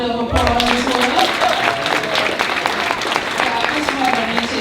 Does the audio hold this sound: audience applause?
yes